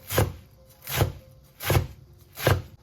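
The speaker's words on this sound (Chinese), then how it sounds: "放到案板上面，改刀给它切成细丝，再改刀给它切成小丁" A knife dices sweet potato leaves on a cutting board. Four sharp, close chops land in a steady, evenly spaced rhythm, with no voices.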